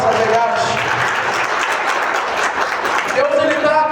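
A congregation at a Catholic preaching service bursts into sustained, dense applause that fills the room at full volume, with voices and cheering mixed into the clapping.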